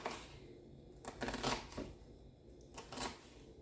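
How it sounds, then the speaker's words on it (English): A knife cutting onions into large squares on a board: several faint crisp chopping crunches in short bursts, quiet and close, with no talking. "So when cutting onions, you can cut them however you guys would like"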